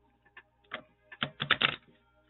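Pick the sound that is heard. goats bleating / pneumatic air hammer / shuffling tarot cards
shuffling tarot cards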